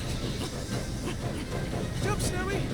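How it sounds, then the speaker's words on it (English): Approaching train in the video game Tintin Reporter, a continuous rumbling hiss with rhythmic clatter and a brief higher squeal near the end, loud and close. "The train is coming."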